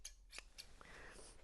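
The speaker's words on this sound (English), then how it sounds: "you get yourself a pair of scissors" Scissors snip at the bristles of a worn paintbrush, giving a few quiet, crisp cuts in quick succession, close and alone.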